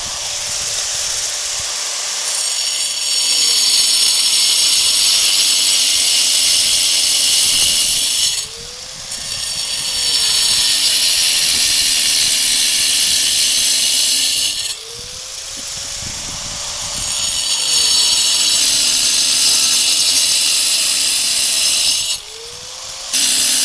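An angle grinder cuts brick outdoors in snow and a blizzard, with three long, loud, shrill cutting runs that each stop briefly before the blade bites in again.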